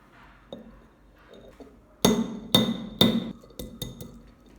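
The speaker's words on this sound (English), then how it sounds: "The shells come off easily." Boiled eggshells being cracked against a hard surface give a few sharp, close taps and cracks in quick succession, preceded by quieter handling noises in a still kitchen.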